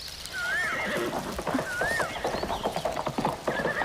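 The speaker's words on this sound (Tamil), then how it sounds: "குதிரை சத்தம் கேக்குது இல்ல?" A horse gives several wavering, high-pitched whinnies close by, mixed with clip-clop hoofbeats and some background noise.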